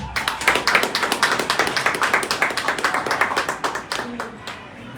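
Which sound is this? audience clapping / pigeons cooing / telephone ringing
audience clapping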